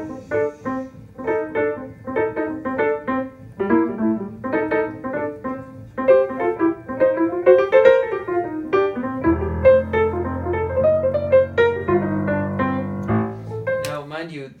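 Solo piano plays a lively jazz line with rhythmic chords and running melodic phrases, a brief deeper bass passage near the end.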